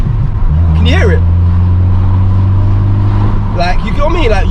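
Vauxhall Corsa with a straight pipe exhaust droning loudly and steadily close by, with a deep engine tone, as someone talks over it in short bursts.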